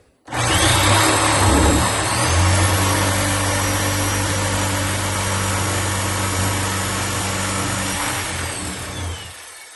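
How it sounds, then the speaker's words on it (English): Power saw cutting through the wood of an oven cabinet for a wall oven, a loud, continuous close whine that holds steady for nearly ten seconds before stopping abruptly. "So let's cut this carefully."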